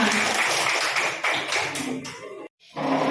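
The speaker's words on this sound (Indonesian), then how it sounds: "tepuk tangan untuk kita semua" Applause at an in-house teacher training session, a dense wash of many hands clapping together for about two and a half seconds, then a brief silence before the sound resumes.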